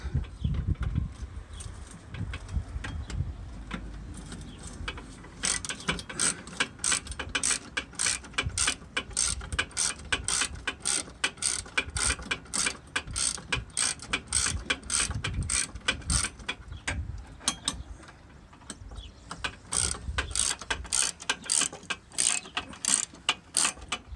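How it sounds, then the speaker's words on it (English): A ratchet on an 18-inch extension with a 10mm socket clicks in rapid bursts of strokes while turning a bolt during a 2010 Honda Civic LX headlight housing replacement, close and crisp, with no talk. "we have to change out to the 18-inch extension, again still with the 10mm bolt, or 10mm socket."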